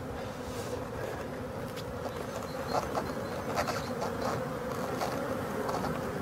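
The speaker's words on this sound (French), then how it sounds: "il y a déjà la moitié des ruches qui sont sorties" Honeybees buzz as they leave their hives, a dense and steady hum from many insects close by, with a few faint bird calls in the background.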